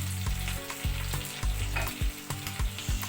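Tomato paste frying with shallots in a pan, a close, continuous sizzle with rhythmic scraping and stirring knocks.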